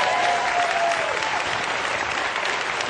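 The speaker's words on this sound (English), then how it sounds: "Why don't you give him a round of applause?" Studio audience on a late-night television talk show applauds steadily, a full, continuous wash of clapping from a sizable crowd throughout.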